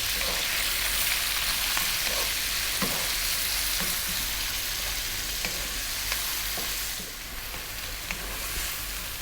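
Finely chopped onion frying steadily in a pan for a lentil curry, a continuous close sizzle with soft scraping clicks as it is stirred, easing slightly near the end; no voices.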